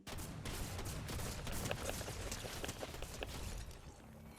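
Rapid gunfire from a Fortnite match in first-person mode, dense continuous bursts of shots and impacts filling the whole stretch, loud and close with no pauses.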